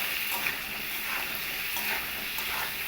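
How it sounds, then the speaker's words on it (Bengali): Pointed gourd (potol) frying in oil with salt and turmeric, a continuous close crackling sizzle with faint stirring swells throughout. "এবার আমি পটলে সামান্য একটু লবণ আর সামান্য একটু হলুদ গুঁড়ো দিয়ে পটলটাকে লাল করে ভেজে নেব।"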